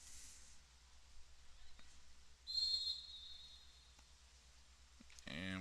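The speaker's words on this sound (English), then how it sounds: "And we get a whistle." Referee's whistle at a high school boys soccer match, a single fairly loud blast at mid-distance over open-field crowd and wind noise.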